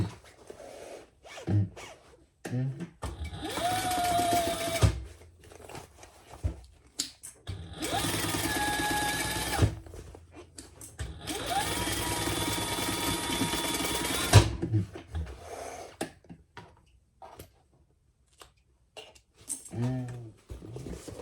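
A domestic sewing machine stitches a fabric seam in three sustained whirring runs of a few seconds each, separated by quiet pauses with small handling noises.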